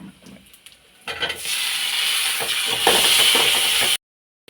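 Onions and tomatoes for a dried fish curry hit hot oil in a pan, sizzling loudly and continuously after a few soft handling sounds, then stopping abruptly.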